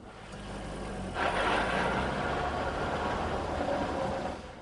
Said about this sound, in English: Some customers have asked about a mechanical buzz or rattle noise coming from underneath the car.